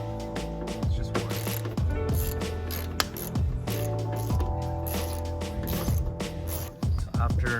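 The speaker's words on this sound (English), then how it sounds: "Gotta remove the 8 mil bolt behind the corner light." Ratcheting socket wrench clicking steadily while backing out the 8 mm bolt behind the corner light of a BMW E28 during a Euro bumper conversion, with repeated close, metallic pawl clicks and short pauses between strokes.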